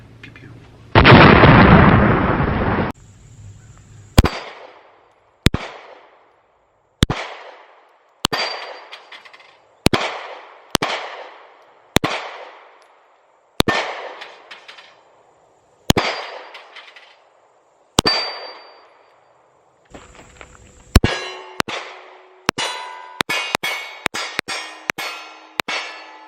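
A Sig P365 SAS 9mm pistol fires at an outdoor shooting range, with a long series of loud, sharp single shots spaced a second or two apart and short echoing tails, then a faster cluster of rapid shots near the end.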